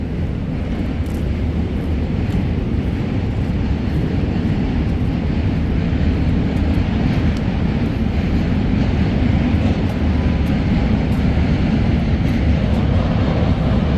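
Trains rumbling over the Manhattan Bridge above a New York City street, a loud, continuous low roar that holds steady with no voices.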